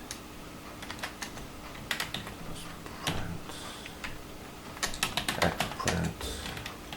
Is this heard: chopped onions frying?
no